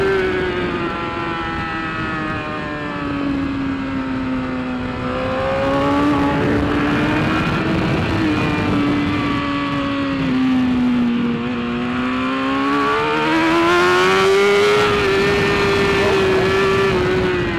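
BMW S1000RR motorcycle fitted with a Hindle exhaust and quick shifter, its engine droning loud and steady while rising and falling in pitch through gear changes, with no talk over it.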